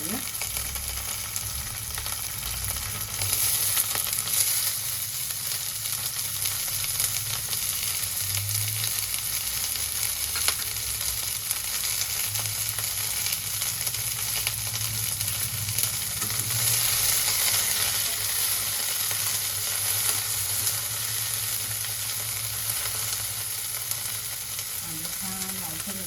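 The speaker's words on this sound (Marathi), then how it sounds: "आपण यावर कांदा घालूया." Chopped onion sizzles steadily in a pan of hot oil with fried green chillies, a loud, continuous crackling fry for a moong sprouts pulao, with no talking over it.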